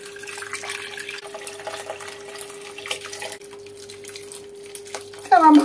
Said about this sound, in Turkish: Şöyle üzerine çıkana kadar su döküyoruz.